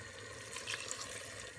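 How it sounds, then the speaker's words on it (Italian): Mushroom soaking water is poured into a simmering meat ragù in a pot, a soft continuous liquid splash and trickle, faint and close. "adesso prima voglio mettere l'acqua dei funghi"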